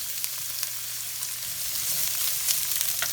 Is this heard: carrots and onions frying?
yes